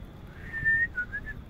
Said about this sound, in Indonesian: Kita panggil angin sementara dengan cara bersiul.